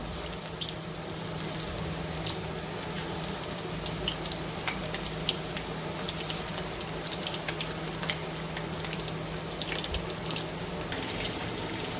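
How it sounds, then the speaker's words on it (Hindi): Marinated chicken frying in hot oil in a kadai, a steady dense sizzle and crackle with scattered sharp pops, close and continuous throughout with no talking. "ये जो मैंने चिकन मैरिनेट करके रखा था तो ये डाल देंगे हम इसके अंदर। इसको हम अच्छे से करेंगे फ्राई।"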